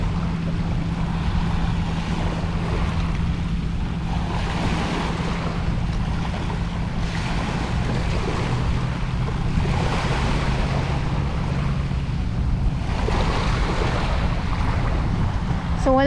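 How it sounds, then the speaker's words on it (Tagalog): Strong wind buffets the microphone over rough sea waves at Manila Bay, with a constant low roar, surging wash and gusts building and easing throughout. "At kahit na maalon, malakas ang hangin"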